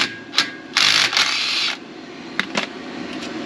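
A 14 mm socket ratchet working loose a brake caliper bolt on a 2015 Toyota RAV4 during a pad and rotor change, giving short metallic clicks and a few sustained ratcheting bursts, close and fairly loud.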